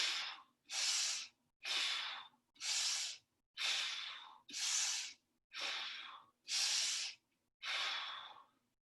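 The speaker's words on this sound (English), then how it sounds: "it's in through the nose, out through the mouth. 5 vigorous breaths." Nine vigorous breaths in a steady rhythm, each a forceful close-up rush of air drawn in through the nose and pushed out through the mouth, with short silent gaps between them during a bench and hand-weight workout.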